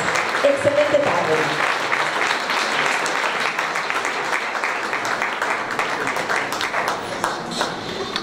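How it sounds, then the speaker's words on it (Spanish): A crowd at a legislator's first legislative report event applauds steadily throughout, dense and sustained clapping at close range, with a brief voice audible near the start. "un fuerte aplauso a la diputada Lorena Ruiz García por este primer informe"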